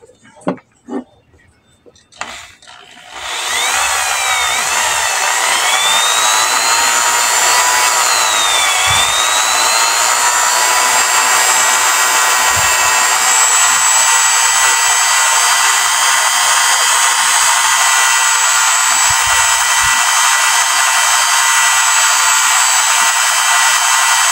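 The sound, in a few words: electric drill spinning for valve lapping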